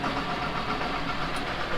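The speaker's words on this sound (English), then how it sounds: "I'm gonna go fire up the loader tractor" An old 656 loader tractor engine runs on a cold morning, a steady, loud, rumbling diesel idle with no breaks, heard up close.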